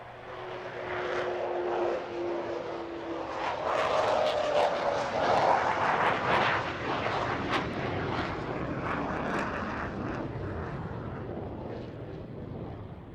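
An Avro Vulcan bomber roars overhead, a loud, sustained jet rumble that swells to a peak mid-pass and slowly fades, with no voices.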